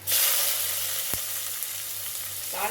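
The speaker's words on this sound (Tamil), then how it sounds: "நான் கடாயில் நல்லெண்ணெய் விட்டுருக்கேன் கொஞ்சம் வடகம் போட்டுக்கிறேன்" Vadagam dropped into hot sesame oil in a kadai bursts into a loud, bright sizzle that holds steady, broken by a single sharp tap midway; nobody talks.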